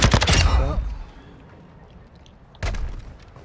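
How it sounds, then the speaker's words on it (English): Gunfire in Call of Duty: Modern Warfare II: a dense, loud volley of shots in the opening second, a short pause, then a second burst around the two-and-a-half-second mark. "So, taking fire."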